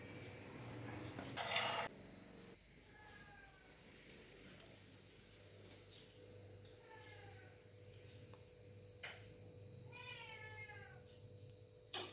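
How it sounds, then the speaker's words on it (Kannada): A domestic cat meows about three times in a home kitchen during cooking. The drawn-out cries are moderately faint against a steady hum and background household noise, with a brief clatter near the start. "ನಮ್ಮ ಬೆಕ್ಕು ಹೋಗ್ತಾ ಇದೆ, ಬೆಕ್ಕು ಬಂದಿದೆ ನಮ್ಮದು."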